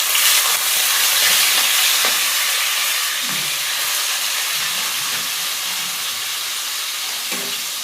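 Chicken sizzles and fries steadily in butter and oil in a pan, a constant loud hiss with faint stirring and clatter underneath.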